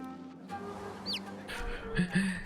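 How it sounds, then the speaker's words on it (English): Game-style bird sounds from a baby chick in the video game Divinity: Original Sin 2: a short chirpy squeak, then two low clucks near the end over a steady background tone. "this baby chick that keeps making weird clucking noises"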